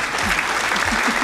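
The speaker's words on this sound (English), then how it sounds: "Yes, we have claps here." An audience claps continuously through a short stretch, a dense, steady burst of many hands with no pauses and no distinct voices.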